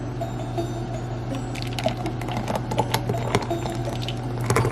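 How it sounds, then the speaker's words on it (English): Green jello liquid poured into a cauldron, giving a soft, continuous wet splashing and trickling with small squishy drips, close and steady over a low background hum. "Alright, so now we're pouring this into the cauldron."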